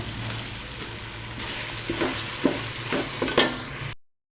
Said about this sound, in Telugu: ఇప్పుడు ఇదంతా ఫ్రై అయిపోయింది